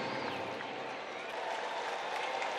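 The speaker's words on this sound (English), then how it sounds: "As you hear the crowd" A baseball stadium crowd roars and applauds after Adam Wainwright's 1900th career strikeout, a dense, sustained wash of cheering and clapping from a distance with no voices standing out.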